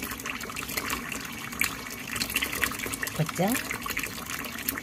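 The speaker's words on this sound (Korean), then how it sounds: "이 물줄기는 정수기 물줄기입니다." Water from a kitchen water purifier runs in a steady stream over freshly boiled eggs resting on kitchen towel, a continuous close splashing trickle with a voice speaking over it.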